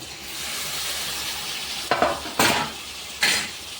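Crushed tomato stirred into egg and dried fish in a pan, a steady frying hiss with a few sharp scraping stir strokes near the end, close and moderately loud, no talking.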